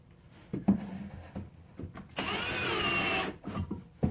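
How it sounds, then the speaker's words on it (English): A power drill driving screws into a shed loft floor board, with a sustained whir of about a second near the middle and scattered knocks and handling noises before and after. "let's get a couple screws started in that board"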